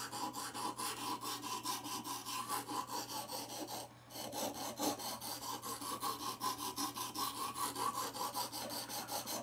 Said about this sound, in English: if I have a knife that is just really out there and dull, what I'm going to do is just go over it just like this.